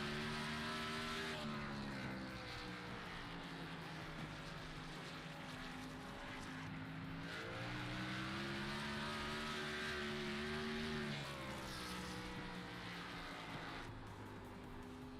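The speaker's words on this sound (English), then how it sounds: "He tries to get this car around this difficult racetrack." Onboard engine sound of a stock-style race car lapping Nashville Fairgrounds in a racing video game, a steady loud droning engine note that rises and falls with shifts and throttle changes.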